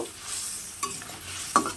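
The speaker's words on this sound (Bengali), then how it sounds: "এই খুন্তি দিয়ে নাড়াচাড়া করব" A fish curry is stirred in the pan with a metal spatula, giving two short, close scrapes over a soft bubbling sizzle.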